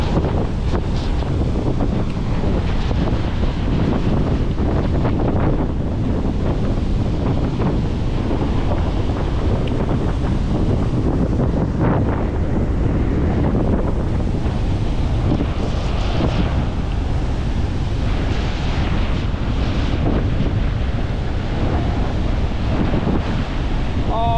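Big sea waves breaking near a river mouth: a loud, unbroken roar of surf with heavy wind buffeting the microphone throughout.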